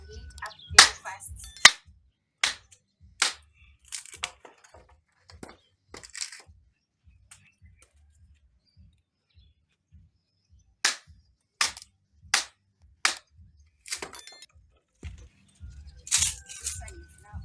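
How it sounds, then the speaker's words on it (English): Firewood is split into small pieces for a cooking fire in an African village, producing sharp, loud woody cracks in irregular bursts, with a quiet gap in the middle before another rapid run of close chops. "I'm now splitting the firewood into small pieces so that my fire can lit up very fast."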